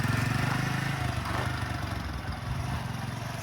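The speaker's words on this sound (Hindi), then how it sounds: "ऐसा से क्लच छोड़, रेस दे और क्लच छोड़" A motorcycle engine revved and held steady while a beginner learns to ride and release the clutch, a continuous close, rough mid-pitched drone with no talk over it.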